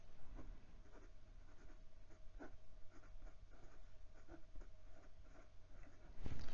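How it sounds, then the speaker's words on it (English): Writing on paper with a Wing Sung 628 fountain pen fitted with a 14K gold fine nib: soft, close scratchy strokes in an irregular rhythm, quiet and continuous, with a brief louder rustle at the end. "I find I have to purposely write bigger to keep the ink from running together in the loops of the E's and the L's."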